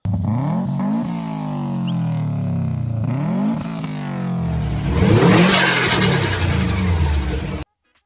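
Subaru Impreza WRX engine revving hard, rising and falling in repeated sweeps before a louder roaring surge near the end, loud and close, then cutting off abruptly.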